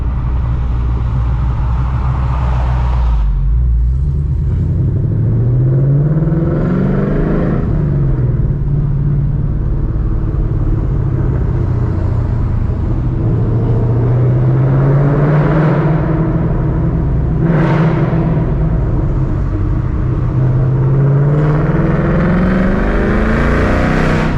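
A deep 500-horsepower S650 Ford Mustang GT engine rumbles close by, revving up and easing off several times in long swells, with no talking.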